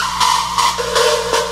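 A Serum synth lead patch screeches with a harsh, buzzing, gritty tone, sustained and pulsing in wobbling bursts over a low drone, loud and alone.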